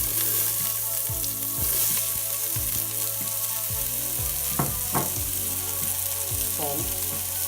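Whole garam masala spices and onion frying in hot oil in a pan, giving a steady close sizzle with faint crackles and a few scrapes and clinks throughout.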